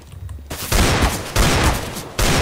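Rapid bursts of gunfire in a first-person shooter video game, loud and dense, coming in several sustained volleys separated by brief gaps.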